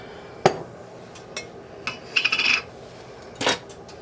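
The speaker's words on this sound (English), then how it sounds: "Then we'll get the jar pop out of the way" A jar of salsa verde opened in a home kitchen: a sharp lid pop rings out near, followed by light metallic clinks, a brief rattling scrape and a second knock, with no talk.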